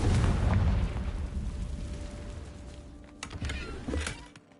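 A Confringo spell in Hogwarts Legacy fires off with a loud booming blast at the start, followed by a fading rumble and a few sharp magical zaps and pops.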